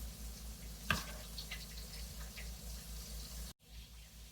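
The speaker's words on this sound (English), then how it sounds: "And then wash my hands." Water running from a tap into a kitchen sink during hand washing, a steady faint wash of flow with a brief splash near the start, then cut off abruptly toward the end.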